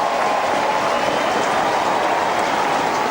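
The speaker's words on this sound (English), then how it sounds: "And you'll hear the crowd tell him all about it too" Football crowd at an AFL match between the Swans and Port Adelaide reacting as Kelly returns to the ground, a steady, loud roar of many voices sustained without a break.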